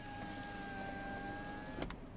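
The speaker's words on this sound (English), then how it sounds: "So now we'll go ahead and roll down the driver's window," Driver's side automatic power window of a 2020 Kia Sportage LX motors down with a steady whine for nearly two seconds, ending in a soft clunk as it stops; quiet and close, no talking.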